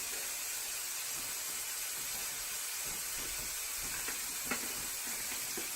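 Ground beef browns in a preheated pan over medium heat, giving a constant hissing sizzle. A few faint crackles and light scrapes of stirring sit over a steady background hum. No one talks.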